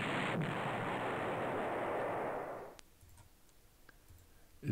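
Tank attack destroying an enemy unit in the strategy game Panzer General, a sustained roaring blast of noise lasting over two seconds that cuts off sharply, followed by faint scattered clicks.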